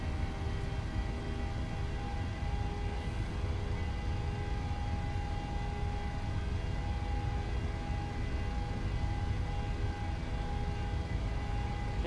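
Engines of a Delta Boeing 737-800 held at takeoff thrust in Microsoft Flight Simulator 2020, a steady loud roar with a constant whine and tonal hum, no talk.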